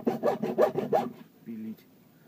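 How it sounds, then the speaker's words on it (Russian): A hacksaw cutting a Renault Logan generator part, with about five quick rhythmic back-and-forth strokes up close, then a short pause and a fainter scraping rub. "Принес ножовку. Будем сейчас ножовочкой пытаться"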